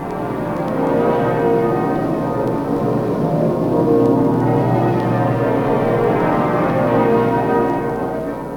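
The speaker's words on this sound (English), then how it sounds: "Now the ringing of the church bells, and General Eisenhower speaks a tribute." Church bells at the funeral of Sir Winston Churchill ring steadily in a dense, sustained peal that fills the whole stretch, loud and reverberant with no voices.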